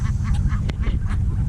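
Ducks quacking at a lake among other waterfowl, a steady outdoor murmur of calls close by with one sharp brief sound in the middle.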